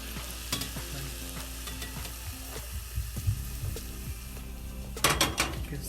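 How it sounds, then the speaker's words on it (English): Hot oil hitting minced garlic for a Chinese pork salad sauce, a steady close sizzle with scattered scraping and clinks, swelling into a brief louder crackling burst near the end; no voices. "add the hot oil to the garlic"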